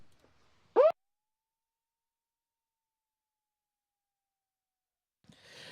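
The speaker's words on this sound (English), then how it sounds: "That siren signaling the start of semi-final number 1" A single short, rising electronic siren tone starting a junior surf contest semi-final sounds loudly once, followed by a long stretch of near silence and a faint hiss at the end.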